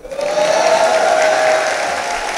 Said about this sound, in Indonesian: Tepuk tangan untuk pondok kita tercinta.